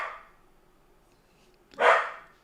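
An indoor dog gives a couple of short, muffled barks, one at the very start and a louder one near the end, with near silence between.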